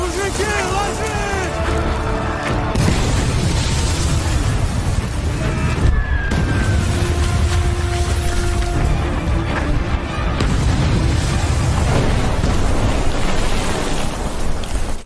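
Explosions from German anti-tank fire hitting a WWII trench, heard as loud continuous booming and rumbling bursts across the whole span, dense and near, with a brief lull around the middle.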